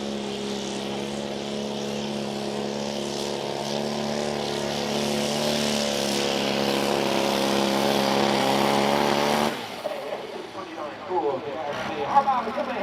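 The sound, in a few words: tractor-pull truck with small four-cylinder engine running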